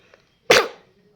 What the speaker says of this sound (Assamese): কাহ হৈ